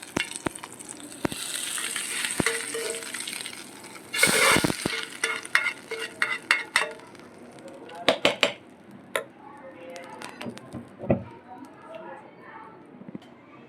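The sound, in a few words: spices sizzling in hot tempering oil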